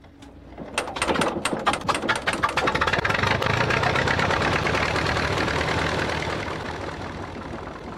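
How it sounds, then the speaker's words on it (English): A vintage Allis-Chalmers tractor engine cranks with a rapid series of sharp firing pops, catches, and settles into a loud, steady, rough idle close by, easing off slightly near the end. "Cranking up a vintage Alice Chalmers tractor"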